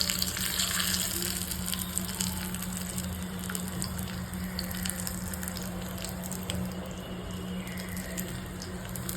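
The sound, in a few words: soya chunks and rice frying in ghee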